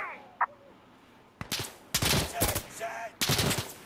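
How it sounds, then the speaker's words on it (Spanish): Gunfire in Insurgency: Sandstorm, with sharp bursts of shots cracking out in quick clusters after a quiet start, fairly close and loud. "me están disparando no sé de dónde"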